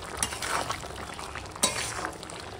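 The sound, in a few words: stirring vegetables and spice paste in a cooking pan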